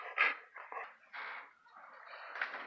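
A dog whimpers and whines in short nasal bursts with breathy pauses, close and fairly quiet, alone with no talk, indoors during a Halloween cosplay mask build.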